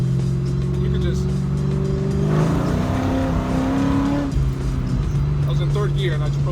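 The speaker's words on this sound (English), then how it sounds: "I was in third gear and I just broke the tires loose" A car with a supercharged LSA V8 revs hard and breaks its tires loose in third gear, giving a loud close roar that rises and falls with a brief squeal, and a voice talks over it.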